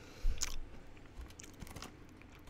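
Freeze-dried durian is bitten and chewed close up, a sharp crunch at the first bite followed by a few softer, quieter crunching chews.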